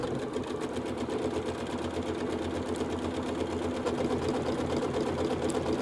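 A Janome sewing machine runs a one-step buttonhole at maximum stitch width and length, giving a steady, continuous mechanical whir with rapid needle rhythm throughout, with no voices.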